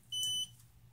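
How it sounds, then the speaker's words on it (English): One short, high-pitched electronic beep from a racing drone's faulty flight controller when connected by USB, lasting about a third of a second, then silence. "Just a beep."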